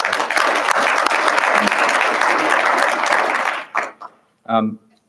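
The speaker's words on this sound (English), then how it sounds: "So let's give them a round of applause." A large audience applauds the catering staff at a university address, dense sustained clapping for about three and a half seconds before it breaks off, with a few scattered claps and a short spoken sound afterward.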